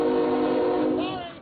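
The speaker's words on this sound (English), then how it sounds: "Hard to be heard when freight trains are running back and forth upstage." A freight train horn sounds loud and sustained for over a second, steady tones that fade slightly toward the end, heard alone with no talking.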